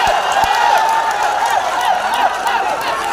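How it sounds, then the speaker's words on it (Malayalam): Crowd applause and cheering at a Kerala tug of war (vadamvali) match, a dense, steady roar of many hands and voices that holds throughout, with a couple of sharp low thumps near the start. "കൈയടി."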